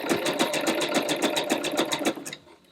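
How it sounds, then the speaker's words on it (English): A sewing machine stitches on a two-hole button in a quick, even run of rapid mechanical needle strokes, close and clear, stopping abruptly near the end. "I'm going to go ahead and press my pedal and let the machine work."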